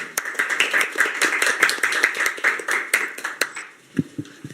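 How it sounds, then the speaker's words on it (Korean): A modest audience claps to welcome a party leader at a Korean policy debate forum, a fairly sparse patter of hands that tapers off into a few scattered claps. "큰 박수로 맞아주시기 바랍니다."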